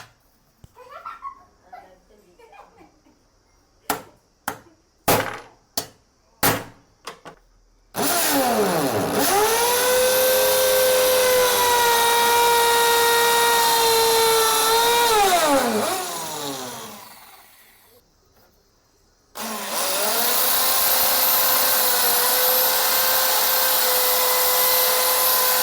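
An electric drill fitted with a large step drill bit cuts into steel. A few sharp taps come first, then the drill runs loud and steady, winds down, and starts again.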